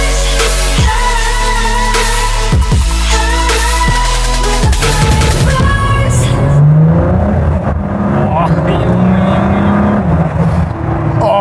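A Ford GT engine barks through several sharp throttle blips, then roars loudly as the car accelerates away, with a strong, layered exhaust note rising and falling.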